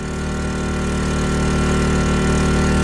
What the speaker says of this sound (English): Now you could just hear it increase in RPMs there.